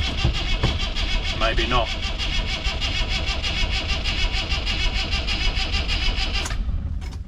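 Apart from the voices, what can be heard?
Land Rover Series III diesel engine cranking, failing to start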